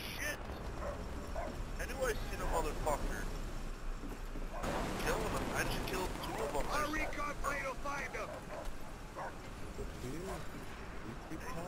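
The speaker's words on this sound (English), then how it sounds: "Attack dogs on this DLC map." Attack dogs barking in Call of Duty: World at War on a DLC multiplayer map, with repeated barks and yelps amid game noise while someone talks over them.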